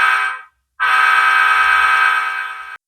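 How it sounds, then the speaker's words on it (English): A model diesel locomotive horn from a sound decoder with lighter reverb blows a short blast that fades, then a longer steady blast that stops abruptly, loud and close with faint low rumble beneath. "So hopefully there you've been able to hear the slight differences between the two locomotive horns."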